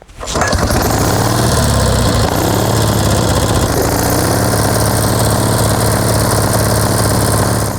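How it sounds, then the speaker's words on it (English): A BMW Boxer motorcycle engine is kickstarted and catches almost at once, settling into a loud, steady running drone that continues close by for several seconds with no talk. "put the kickstart out, and with a little bit of luck, we'll be able to get the thing fired"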